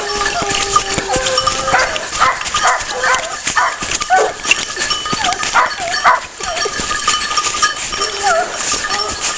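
Gascon hunting dogs bark and bay continuously during a hunt in open countryside, several voices overlapping at moderate distance with no break.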